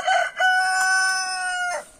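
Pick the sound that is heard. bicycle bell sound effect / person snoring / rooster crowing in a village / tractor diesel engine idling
rooster crowing in a village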